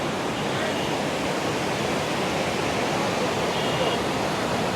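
Water from the Kaveri river rushes with great force through open dam shutters, a dense, steady roar that continues unbroken throughout.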